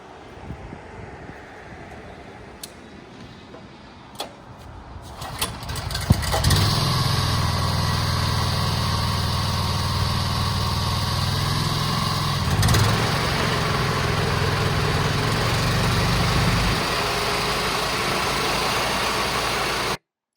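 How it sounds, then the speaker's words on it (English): A small leaf shredder engine sputters and starts, then settles into a steady, loud running drone that holds for over ten seconds before cutting off abruptly. "We've got the machine turned on, the engine's running"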